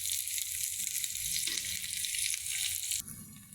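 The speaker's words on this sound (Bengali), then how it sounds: "এটাকে আবার নাড়বো একদম।" Fish heads, small shrimp and puti fish frying in a pan, a loud, steady hiss of sizzling oil throughout, with stirring scrapes shifting the texture partway and a sudden drop in intensity near the end.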